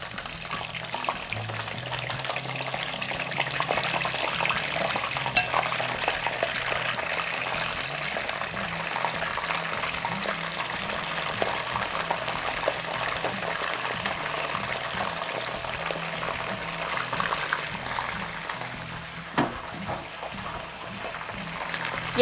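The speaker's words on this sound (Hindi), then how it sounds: "यहाँ ये चिकन फ्राई हो रही है" Chicken frying in hot oil for a cooking-competition dish gives a steady, broadband sizzle with a wet, watery texture, continuous and fairly loud throughout with no talking.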